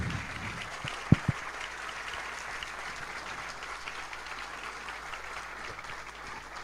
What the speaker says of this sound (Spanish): pueden aplaudir, claro que sí